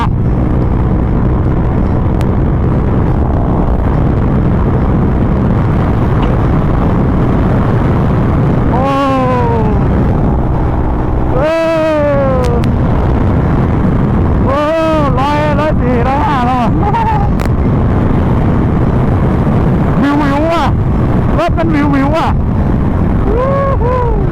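Engine of a heavily tuned street car revving hard in second gear on an open road, rising through repeated loud accelerating sweeps close by, with people talking over the roar.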